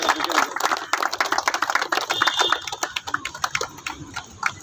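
A gathering claps for the gardener, a burst of dense overlapping applause at a garden event that starts strong and thins into scattered claps toward the end.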